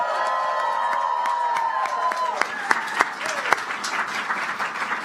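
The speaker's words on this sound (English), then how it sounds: "Can we get a round of applause for our volunteers?" A crowd of Democratic staff and volunteers at a midterm campaign event with President Biden bursts into loud, sustained applause and cheering, dense clapping with whoops and shouts rising over a fading voice.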